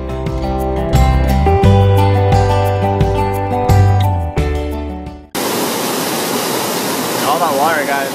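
Water cascading down a waterfall in the Cascades of Giles County, Virginia: a dense, steady hiss and roar that follows several seconds of music, loud and close with no talk over it.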